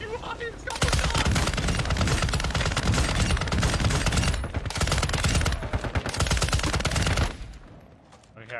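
Rapid automatic gunfire in a shooter video game, loud sustained bursts with brief gaps, continuing for several seconds before cutting off, with players talking faintly underneath.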